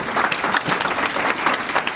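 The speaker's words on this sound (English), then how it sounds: "Ladies and gentlemen, a round of applause for our panel" Audience applauding a panel at the close of a conference session, steady dense clapping throughout, with a man briefly thanking the group over it.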